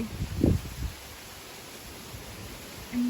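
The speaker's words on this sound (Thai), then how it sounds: "ลมยังไม่สงบหรอกค่ะ" Gusty wind stirs the foliage of a dry, drought-stricken garden of ornamental caladium plants, heard as a soft, steady rustling hiss with a brief louder gust near the start.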